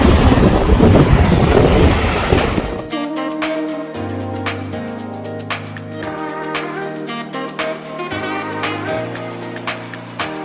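Surf washing onto a white sand beach in Negril, Jamaica, with a loud broadband rush at first, then a steadier, softer wash of waves under a bed of other sound.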